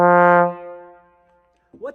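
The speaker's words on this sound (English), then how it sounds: "what's called a fwa or a balloon attack" A single trombone note played with a balloon attack, blooming with a soft, swelling start, then fading away; a brief voice sound follows at the end.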